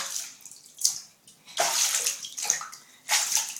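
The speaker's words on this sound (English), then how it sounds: "Xavier, stop splashing the water all over me." A child splashes water in a bathtub, with repeated bursts of sloshing and splashing separated by brief quieter pauses, close and fairly loud.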